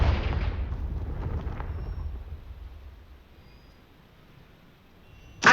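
A Confringo spell explodes in Hogwarts Legacy with a deep, booming blast that rumbles and fades over several seconds, followed by a short sharp burst at the end.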